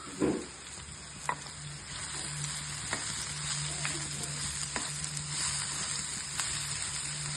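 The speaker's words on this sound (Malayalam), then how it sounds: "അതൊന്ന് ഉപ്പ് ചേർത്ത് ഒന്നുകൂടെ ഇളക്കി കൊടുത്തു." Raw jackfruit thoran frying in a pan, a steady close sizzle and hiss broken by several soft scrapes and knocks as it is stirred, with no voices.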